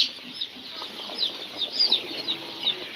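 Three-day-old broiler and Fayoumi chicks give a scatter of faint, high, short peeps over a quiet hum, several chirps spaced unevenly across a few seconds.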